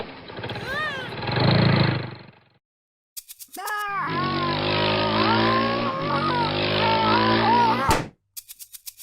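Motorcycle engine in a children's first-words animal-sounds program: a steady, buzzing engine drone holds for about four seconds after a short vocal sound and a pause, then cuts off abruptly.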